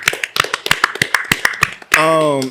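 A short burst of sharp, rapid hand claps from podcast hosts, about a dozen quick slaps, followed by a sustained vocal cheer or sung tone.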